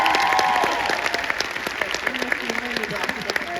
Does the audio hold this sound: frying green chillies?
no